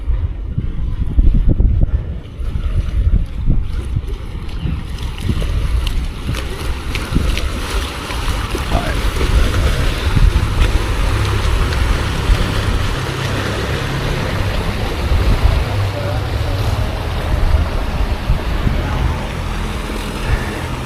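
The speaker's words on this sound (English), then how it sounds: "presumably the two boats coming through." A loud, continuous rumble of a powerful launch's engine churning through water, with wind buffeting the microphone throughout.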